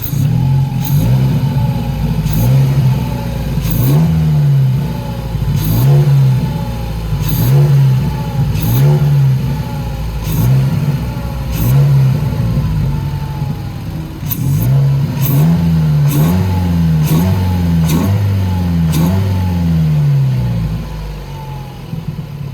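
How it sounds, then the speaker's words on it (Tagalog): A Ford Focus engine with its stock air filter revs repeatedly, rising and falling in a steady rhythm of throttle blips from idle, loud and close, with no talking. "So ngayon, itetest natin yung tunog ha ng stock. Kaya lang, re-rev natin."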